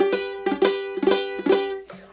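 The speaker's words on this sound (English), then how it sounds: "when you get that buzzing sound" A guitar chord strummed repeatedly, five rhythmic strums with a slightly rough, buzzy ring from imperfect fretting, close and fairly loud, no voices.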